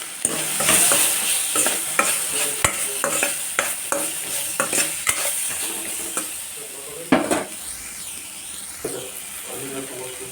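Drumsticks seasoned with salt and turmeric are stir-fried in a hot pan, giving a constant loud sizzle broken by repeated scraping spatula strokes against the metal, with a little talk in the background.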